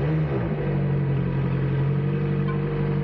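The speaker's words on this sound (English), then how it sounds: "try and start the car with someone listening outside the car when it's cold" A McLaren sports car engine starting from cold, caught from outside the car: a brief crank at the start, then a steady, loud low rumbling idle with no talk.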